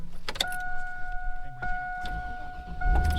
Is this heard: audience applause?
no